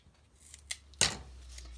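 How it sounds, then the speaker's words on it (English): Scissors cut foam tape with a faint click and then one crisp, close snip, followed by a low hum. "I have a pair of scissors that I use only for cutting my foam tape"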